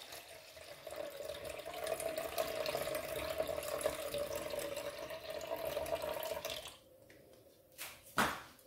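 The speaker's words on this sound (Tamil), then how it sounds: "இப்போ தண்ணி வடித்து எடுக்கிறோம்." Soaking water being drained off urad dal: a steady close pour of water lasting several seconds, then a few splashes and drips as it tapers off.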